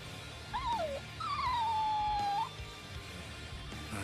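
A dog whines in Bleach Rebirth of Souls, two drawn-out, wavering cries, the second long and sliding downward, fairly clear over a quiet background hum.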